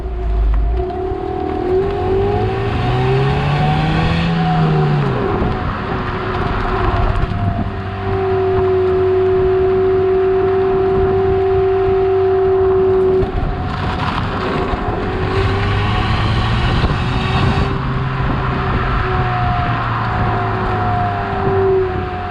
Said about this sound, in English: You can hear the engine, it's raspy.